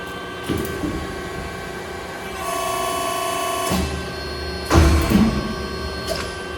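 An Estun E21 press brake runs a bending program with steady hydraulic pump hum, a sustained tonal drone and several heavier thumps as the ram cycles.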